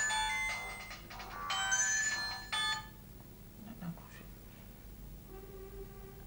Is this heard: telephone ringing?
yes